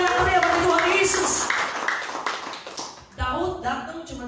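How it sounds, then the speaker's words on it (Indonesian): A church congregation claps loudly and steadily during a worship service, a dense patter of hands under a preacher's amplified voice, briefly dropping out before resuming. "Kasih tepuk tangan yang meriah bagi Tuhan Yesus."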